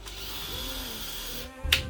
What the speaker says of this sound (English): Remember to reverse and drill out a hole.